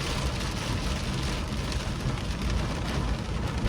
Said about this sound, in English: Yo, it's pouring, y'all. It's really pouring, genuinely pouring.